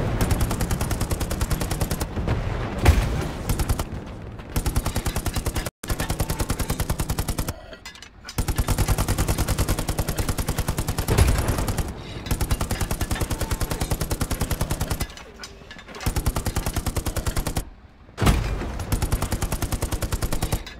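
Sustained gunfire and heavy cannon shots from a tank in the World War II shooter game Hell Let Loose, loud and dense throughout with rapid bursts, booming blasts and brief gaps between volleys.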